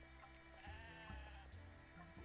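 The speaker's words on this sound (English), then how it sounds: "I hear a sheep." Sheep bleat in the farming-shop video game Discounty: a few wavering, nasal bleats follow one another, quiet and up close against a steady tonal game background.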